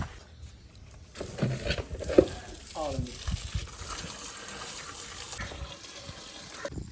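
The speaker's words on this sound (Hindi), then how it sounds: "आ जाए यहाँ से पानी भरते हैं जी" Water gushes into a container from a tap, a steady rushing pour that builds in volume, with people talking nearby.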